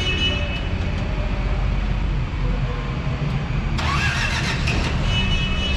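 Doosan G25P-3 5,000 lb propane forklift engine running steadily at idle, a continuous low rumble with a brighter burst of mechanical noise near the end; brief talk over it.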